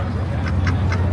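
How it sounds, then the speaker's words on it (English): A duck at the Osceola County Fair in Kissimmee, Florida gives three short, evenly spaced quacks over a low background hum. "Look, it's Mario the Duck."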